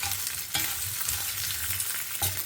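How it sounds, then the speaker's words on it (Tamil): Onion and garlic sautéing in a pan with lentils, a continuous close sizzle broken by a couple of sharp spatula stirs, no voices. "வெங்காயம் பூண்டு நல்லா வதங்கட்டும்."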